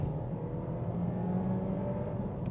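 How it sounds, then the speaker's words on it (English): A 2024 Skoda Karoq mid-sized SUV accelerating hard in sport mode, heard from inside as a steady, rising engine drone under road rumble, continuous and fairly subdued. "Put the car into, S for sport,"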